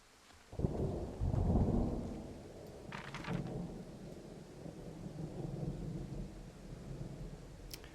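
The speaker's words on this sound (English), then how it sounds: "You can hear the rolling thunder." Rolling thunder in the video game Firewatch, a deep rumble swelling in after a quiet start and then settling into a long, steady low roar with rain-like hiss, fairly loud and alone.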